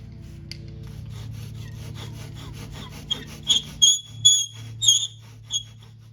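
A hand saw cuts wood for guitar soundboard bracing on a curly maple dreadnought. Soft rhythmic rasping strokes give way to sharper, squeaky back-and-forth pulls near the end, up close with no talking.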